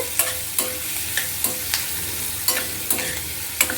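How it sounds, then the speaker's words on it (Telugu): Onions frying lightly in hot oil for the tempering of a buttermilk stew, giving a steady close sizzle broken by regular spoon scrapes and stirs against the pan, with no talking. "ఈ ఉల్లిపాయలు బాగా ఏగే పని లేదండి కొంచెం వేగితే చాలు"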